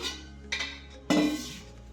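An upturned clay water pot gets covered with a lid, giving two short ceramic clinks, a light one midway and a fuller, louder knock near the end, with no talk.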